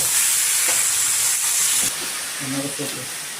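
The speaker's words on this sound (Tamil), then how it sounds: "காஞ்ச மிளகா கருவேப்பிலையும் போட்டுக்கலாமா" Dried red chillies, curry leaves, chana dal and urad dal hit hot oil in a pan, giving a steady, bright sizzle and hiss that eases slightly partway through, with a faint voice briefly underneath near the end.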